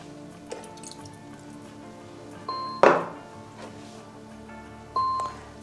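Soy sauce is poured into a mixing container while an Indonesian bihun soup is made: a few sparse, close drips and splashes, one sharper than the rest, in an otherwise quiet kitchen.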